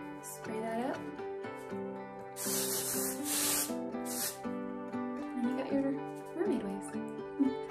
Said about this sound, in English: And then I'll take some texture spray